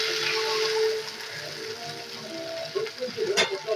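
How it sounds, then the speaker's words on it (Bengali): Onions fry in a pan for a mutton and potato curry, a close crackling sizzle that is steady at first, with a spoon scraping and stirring and a brief clatter near the end. "ভালো করে ভাজা করে নিই। একটু যখন পেঁয়াজের কালারটা একটু লালচে হয়ে যাবে,"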